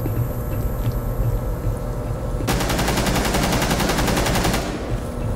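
Rapid automatic gunfire from Rainbow Six Siege on the yacht map bursts in halfway through, a dense sustained volley of close, loud shots lasting about two seconds over constant game background noise.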